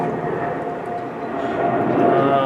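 A large passenger airplane passes overhead outdoors, a broad droning roar with a steady engine tone that swells slightly toward the end, moderately loud and distant.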